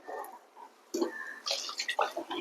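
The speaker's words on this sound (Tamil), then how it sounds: "இந்த மிக்ஸி ஜார் அலசின தண்ணி ஊற்றிங்க" Water used to rinse a mixer jar is poured into a pot of prawn kuzhambu, a brief, close splashing pour lasting a couple of seconds.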